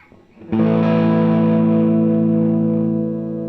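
An Epiphone SG400 electric guitar on the middle pickup position rings out through effects: one loud distorted, chorused chord struck after a short quiet lead-in, then held and slowly fading.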